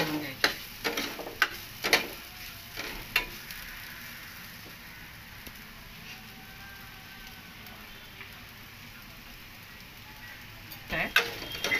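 Rice for kheer being lightly roasted in a pan: a spoon scrapes and taps in quick clicks at the start and again near the end, with a soft, steady sizzle in between.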